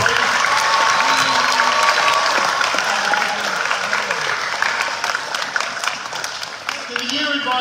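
An audience at a Year 12 school graduation ceremony applauds the year's teachers with sustained clapping that fills the hall throughout, while voices talk and call out over it.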